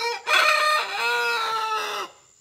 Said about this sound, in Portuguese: Olha o cantado desse galo, tão que é bonito.